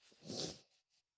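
A single person's sneeze, a short breathy burst that peaks quickly and then tails off into a faint exhale, close and fairly quiet.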